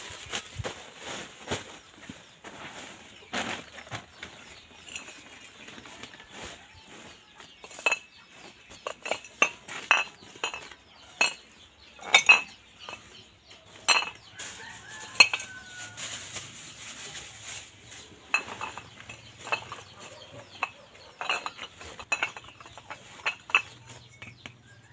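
Scrap metal is dropped into a sack, giving irregular sharp clinks and clanks of metal pieces striking each other, close by, with quiet gaps between bursts and a faint rooster in the background.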